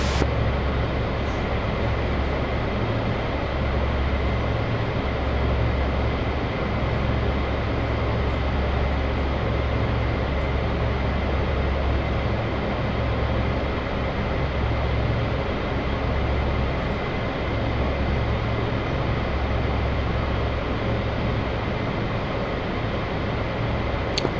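Steady, droning turboprop engine noise of a C-130 transport aircraft cruising in a flight simulation game, a constant broadband roar with no breaks, close and even throughout.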